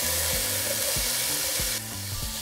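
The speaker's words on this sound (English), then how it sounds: "And now we're going to fry for a couple minutes." Onion, Roma tomatoes and serrano chile fry in hot oil with a steady, close sizzle, while a few low knocks and scrapes from the pan and utensil cut in now and then.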